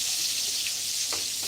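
Pointed gourd (potol) frying in hot oil in a pan, a steady bright sizzle running evenly throughout with a few soft stirring scrapes, fairly close and loud, with no voices.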